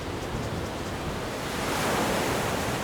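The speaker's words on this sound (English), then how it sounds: "The waves, the water here is obviously a little more open to the Pacific, so you get some really great waves." Ocean waves rolling in at Playa Bocagrande beach in Cartagena, Colombia, a continuous broad roar of surf that swells slightly louder toward the end, mixed with some wind buffeting the microphone and no voices.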